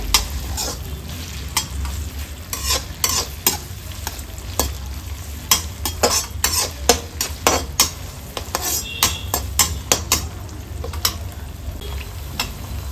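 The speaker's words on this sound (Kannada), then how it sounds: "ಎಣ್ಣೆಗೆ ಹಾಕ್ಕೊಂಡು ಫ್ರೈ ಮಾಡ್ಕೊಳ್ಳೋಣ." Ginger and chopped red chillies fry in hot oil for a Coorg-style pork chilli, giving a steady close sizzle broken by frequent sharp scrapes and clicks of a spoon stirring against the pan, with no talking.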